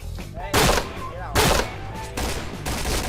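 Gunfire bursts in the Point Blank shooter game, three loud broadband volleys separated by short gaps, with people talking over the action.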